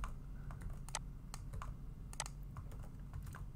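Quiet computer keyboard keystrokes for copy and paste: a scattered run of light clicks, some close together, over a low steady background hum.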